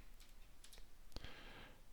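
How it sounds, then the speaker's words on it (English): Typing on a computer keyboard while entering a math answer, a few sparse quiet clicks and one sharper keystroke, close and faint against a low background hiss, no talk. "I'm going to try typing that in and see if that's correct"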